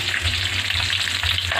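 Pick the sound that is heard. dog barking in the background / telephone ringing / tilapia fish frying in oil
tilapia fish frying in oil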